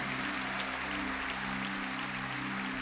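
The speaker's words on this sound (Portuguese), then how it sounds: "Aplauda bem forte, igreja!" A church congregation clapping hard during a morning service, a continuous dense patter of hands over a steady low hum of music or amplification.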